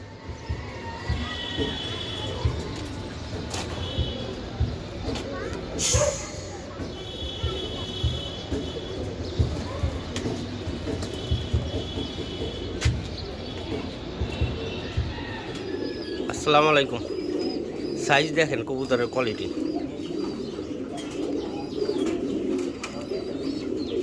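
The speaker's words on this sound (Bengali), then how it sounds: "বাগা কবুতর" Baga pigeons, a Bangladeshi fancy breed kept for long flights, coo in a steady low murmur throughout, with scattered wing flaps and clatter close by and someone talking over them.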